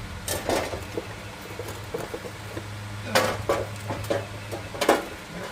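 Metal transmission pan from a 2017 5.0 being handled during a fluid and filter change, a few light clanks and scrapes spaced out over faint background hum.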